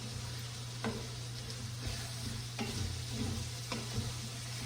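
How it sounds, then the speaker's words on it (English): Onions fry and sizzle in a pan with a steady, close hiss and crackle, and a utensil scrapes and stirs through them every second or so. "We're gonna let this finish cooking up until the onions are completely translucent."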